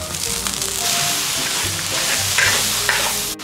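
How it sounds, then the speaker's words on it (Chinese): Fried tofu and chili stir-fried in a wok, with a loud, dense sizzle and rustling stirs running continuously, close up, and a sharp knock at the very end. "再把豆腐放进去，再把辣椒给倒进去，放进去炒炒香"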